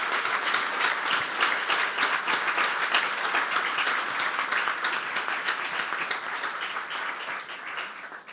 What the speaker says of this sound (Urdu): اپنے لیے زوردار تالیاں بجا دیں